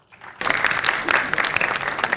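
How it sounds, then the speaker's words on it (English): Conference audience bursting into sustained applause for a speaker about to give a security talk, dense clapping starting abruptly and holding steady for about two seconds. "Give him a big round of applause."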